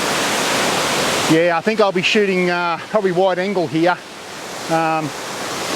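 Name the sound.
waterfall in a ravine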